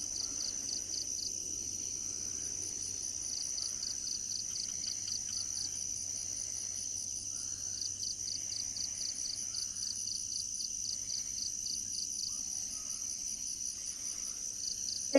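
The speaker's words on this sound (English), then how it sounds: "You can only hear a couple of crickets, maybe some small songbirds." Crickets trill steadily and continuously in a quiet outdoor setting near a protected forest, with a few faint, scattered songbird chirps in the background.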